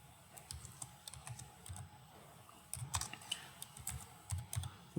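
Light, irregular keystrokes tap on a computer keyboard while text is entered into a PowerPoint slide, close and fairly quiet, with brief pauses between clusters.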